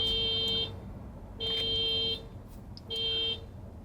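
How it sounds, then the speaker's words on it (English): An electronic alarm sounds in three repeated, evenly spaced bursts of piercing tones, with a low background hum between them. "Car alarm, eh?"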